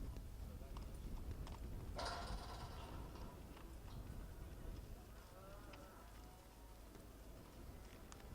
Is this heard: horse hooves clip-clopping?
yes